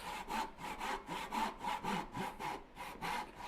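A fine-toothed hand saw cuts through wood for a bench hook, about a dozen even back-and-forth strokes rasping close and clear with no talk.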